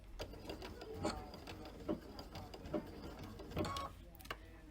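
A sewing machine stitching a small pineapple crossbody bag runs in short, quiet mechanical bursts, faint and close, with no talk.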